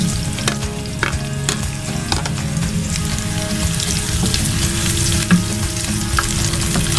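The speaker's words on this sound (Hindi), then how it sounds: "ये मैं प्याज फ्राई कर रही हूँ, उसके साथ मैं ये भी फ्राई करूँ।" Sliced onions fry steadily in hot oil together with whole garam masala spices and a bay leaf, a dense continuous sizzle with occasional crackles and stirring, close and fairly loud throughout with no talking.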